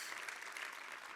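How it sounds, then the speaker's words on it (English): An audience at a product-management conference talk claps, a brief, faint, even patter of applause from a distant crowd. "Give yourselves a round of applause."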